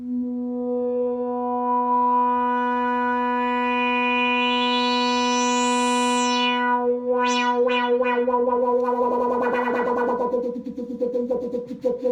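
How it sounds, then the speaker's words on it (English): An EWI wind controller's breath sensor drives a modular synth, holding one steady buzzy drone while a filter sweeps up into a bright squeal, falls away, then wobbles and swells into a gritty, echoing growl. "Okay, so that's what I can do with the breath"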